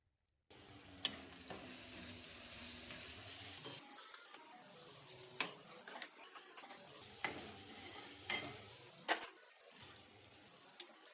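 Spice masala for dal fry roasts in a pan with a steady hiss and sizzle. It is broken again and again by swirling stirring sweeps and sharp clinks of a spoon against the pan, all close by and with no talking.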